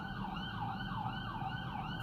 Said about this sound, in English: I'm at the ambulance pass real quick.